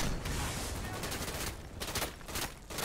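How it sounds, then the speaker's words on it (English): Dense, sustained gunfire from a World War II shooter game, with machine gun bursts and scattered shots layered into a continuous battle din for several seconds, broken by a couple of brief lulls. "That MG is causing havoc right now."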